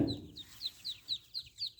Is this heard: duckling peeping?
yes